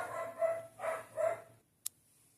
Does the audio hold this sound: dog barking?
yes